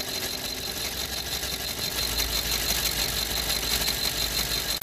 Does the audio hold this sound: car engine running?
yes